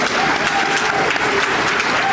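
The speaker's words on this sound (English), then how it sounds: "I would like to ask for one final round of applause for Danielle" A large crowd applauds steadily at an award dinner, dense continuous clapping filling the room with no break.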